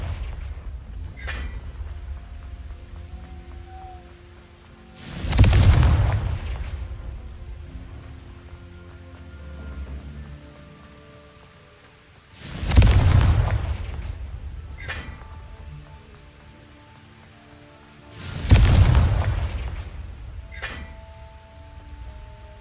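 Three big fiery blasts from the Confringo spell in Hogwarts Legacy, each a deep booming explosion about seven seconds apart with fading rumbles between, alongside small game chimes and no speech.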